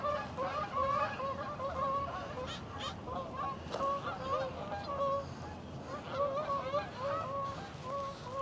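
A flock of ducks and other birds call outdoors, repeated honking and quacking cries overlapping continuously at moderate distance over a steady ambient rumble.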